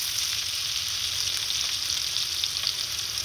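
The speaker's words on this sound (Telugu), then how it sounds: "ఆనియన్స్ 1 కప్పు, 2 చిల్లీలు ముక్కలుగా కట్ చేసి వేయించుకోవాలి." Chopped garlic, a cup of onions and two cut chillies fry in butter with a dense, even, close sizzle that holds steady throughout, no talking.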